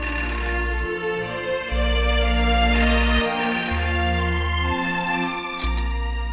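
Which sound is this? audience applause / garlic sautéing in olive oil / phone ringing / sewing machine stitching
phone ringing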